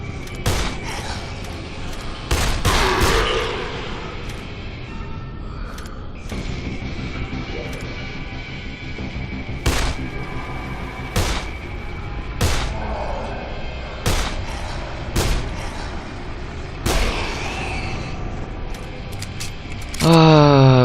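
Repeated gunshots in the zombie video game Dead Island, sharp loud bangs spaced irregularly every couple of seconds over a constant background rumble, with a player's voice speaking at times.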